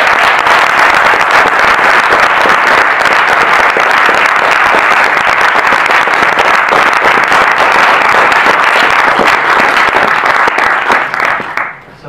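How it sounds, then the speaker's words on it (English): Steady, loud applause from an audience for panelists at a mental health panel discussion, a dense even wash of clapping lasting over ten seconds before cutting off abruptly. "let's have a round of applause for our panelists"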